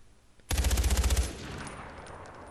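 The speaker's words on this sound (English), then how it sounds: "I'm even shooting to see if I can find anybody." Gunshots in Far Cry 4: a single loud, close automatic burst of about a dozen evenly spaced rounds lasting under a second, followed by a fading echo.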